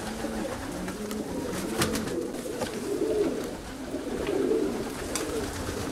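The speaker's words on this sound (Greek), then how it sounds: "Κοίτα που βγαίνουν τα πουλιά. Και περνάνε από εμάς." Pigeons and parrots leaving their loft coo steadily at close range, with soft wing flutters and scattered chirps over a constant outdoor background.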